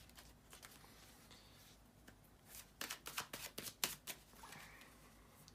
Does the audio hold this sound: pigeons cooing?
no